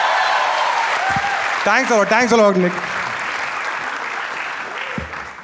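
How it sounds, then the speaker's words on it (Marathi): An audience at a Marathi stand-up comedy crowd-work show claps steadily, a dense applause wash under someone speaking and a brief burst of cheering. "एकदा जोरदार टाळ्या वाजवा पुन्हा एकदा"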